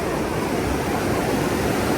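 A river flowing through a residential area, a constant dense rushing wash of water, steady and fairly close, with no voices.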